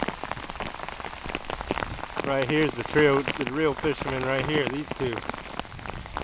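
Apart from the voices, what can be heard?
rain falling while salmon fishing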